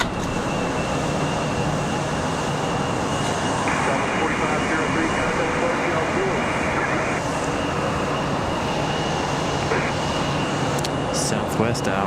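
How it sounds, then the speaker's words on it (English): An American Airlines A319/A320 jet taxis toward the runway end at Raleigh-Durham airport, its engines giving a steady, broad, droning whine and rumble that fills the whole stretch without pause. "Looks like we got an American A319, A320 headed out to the end of the runway here."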